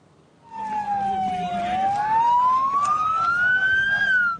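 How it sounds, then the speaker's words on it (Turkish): A loud emergency siren wails close by, its pitch dipping and then rising steadily over a rumble of traffic. "Siren sesleri ağıtlara karıştı"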